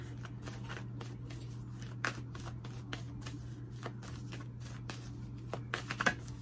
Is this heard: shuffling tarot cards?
yes